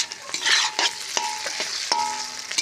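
Potatoes frying in a pan while being stirred, a bright sizzling hiss broken by repeated scraping strokes of a spatula against the pan, close and clear.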